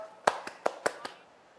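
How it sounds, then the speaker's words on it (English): A few sharp hand claps, about five in a steady slow rhythm, greet a guest named Smita on a live Bengal election talk show, fairly close and short, with no crowd swell. "Let's clap for her"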